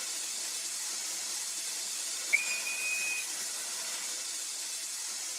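A short steam-whistle tone from the Flying Scotsman locomotive in BR Blue livery, sounding once for about a second over a steady loud hiss of steam.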